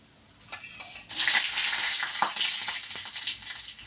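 Mustard seeds splutter and crackle in hot oil in a pan, with a brief stir at first and then a loud, close, continuous sizzle dotted with sharp pops.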